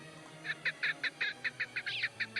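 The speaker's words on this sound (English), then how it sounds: "It's definitely a partridge." Game partridge hidden in a tree in Sherlock Holmes: Nemesis, giving a fast run of roughly ten harsh, clipped calls in even succession, clear and close against a faint low hum.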